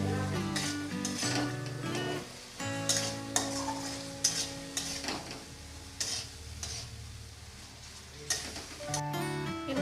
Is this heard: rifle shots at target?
no